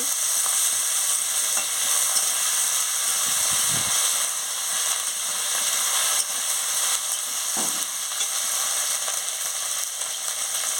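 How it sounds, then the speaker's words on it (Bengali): Ginger garlic paste and spices frying in a pan: a steady, bright sizzle with a constant hiss throughout, broken by a couple of soft stirring knocks. "আদা রসুন বাটা দিয়ে দিচ্ছি দিয়ে মশলাটাকে ভালো করে ভেজে নিচ্ছি"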